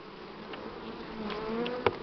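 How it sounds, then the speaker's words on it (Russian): Buckfast honey bees buzzing around beehives at an apiary during honey harvest, a soft continuous hum with individual bees droning past close by, no talking. "И пчел побольше здесь."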